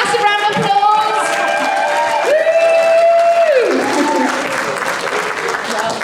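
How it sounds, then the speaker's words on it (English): An audience at a Wales child protection conference applauds to welcome a speaker, the clapping running under loud nearby voices and a cheer, then tapering off. "So let's all welcome Joan with a massive round of applause."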